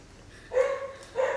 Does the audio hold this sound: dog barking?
yes